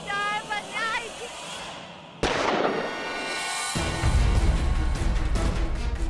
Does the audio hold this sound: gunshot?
yes